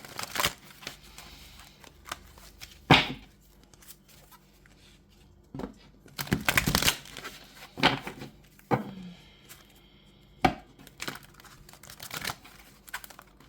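Tarot cards being shuffled by hand, a series of short crisp riffling and slapping bursts with uneven pauses between them, close and fairly loud, with no talking.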